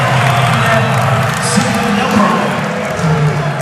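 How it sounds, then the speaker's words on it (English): A volleyball crowd roars and cheers loudly at an NCAA men's championship match after a point for Hawaii. Whoops and ball noise rise through the sustained crowd noise, and there is talk amid the din. "You can hear it, Hannah, every single point that Hawaii scores, the crowd going wild."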